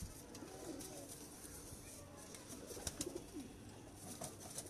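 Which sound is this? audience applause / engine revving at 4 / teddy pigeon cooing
teddy pigeon cooing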